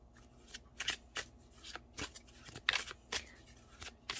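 Tarot cards being shuffled and drawn from the deck, giving a run of quick papery riffles and flicks in irregular bursts, close up and fairly quiet with no voices.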